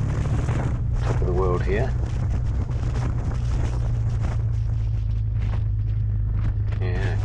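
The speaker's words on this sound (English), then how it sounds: "the wind's getting stronger and stronger" Strong, gusting wind roars across a mountaintop in Tenerife, buffeting the microphone with a heavy, constant low rush while someone talks over it.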